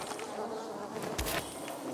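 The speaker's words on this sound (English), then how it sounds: "I hear bees." Buzzing of bees inside the Dying Light 2: Stay Human video game, a steady droning hum that runs throughout, moderately close, with a brief louder swell partway through and no talk over it.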